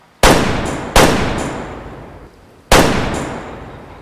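Three sharp, loud shotgun blasts fired at flushed pheasants in Way of the Hunter, the first two in quick succession and the third after a pause, each followed by a decaying tail.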